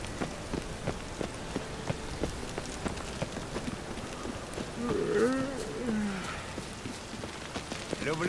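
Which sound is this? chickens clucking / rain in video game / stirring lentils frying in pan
rain in video game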